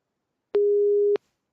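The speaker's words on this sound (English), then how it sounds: "This is the sound of original signal, and this is the display for frequency of 5000 hertz" A 5000 Hz sine test tone from a sampling-theorem lab demo sounds once as a pure, steady, clean beep lasting about half a second, with clicks at its start and stop and silence around it.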